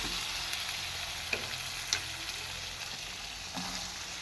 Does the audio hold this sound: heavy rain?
no